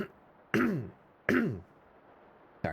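Loud, close throat clearing comes in three harsh, gravelly bursts about a second apart, the last cut short, with near-silence between them.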